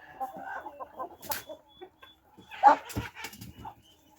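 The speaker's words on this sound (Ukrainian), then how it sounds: "Ось такі величезні ходять півні." Large roosters and chickens cluck and squawk close by in a yard in short, scattered bursts, with a rooster call standing out in the middle.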